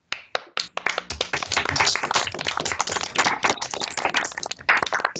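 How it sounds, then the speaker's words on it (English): Webinar attendees clap for a speaker over unmuted microphones, with scattered individual claps at first that build into a dense, uneven patter, close and dry, before tapering at the end. "give our speaker, Mattia, a round of applause"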